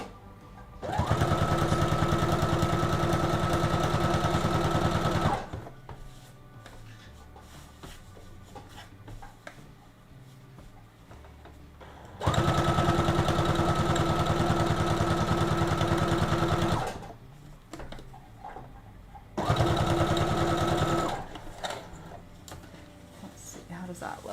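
A sewing machine stitching a dress seam runs in three bursts of steady, loud mechanical whirring, separated by quieter gaps with handling noise and someone talking.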